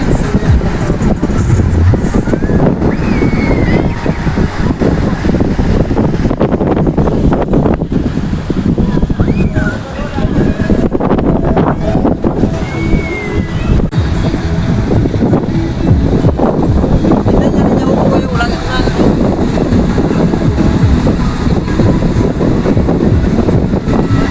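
Waves wash onto the seashore at Uncha Kotda under strong wind that buffets the microphone, a dense, continuous roar lasting throughout.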